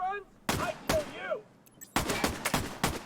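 Gunfire in The Division 2 comes as several loud, sharp shots in quick groups, with a voice talking between the first bursts.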